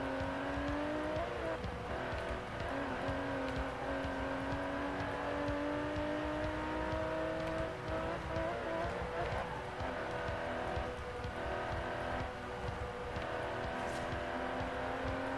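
Aston Martin DB11 with a 5.2-litre twin-turbo V12 in the Forza Horizon 4 racing game, engine droning steadily at high revs with rising and falling pitch and occasional tire noise, continuous and loud throughout.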